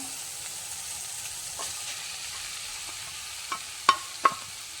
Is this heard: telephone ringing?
no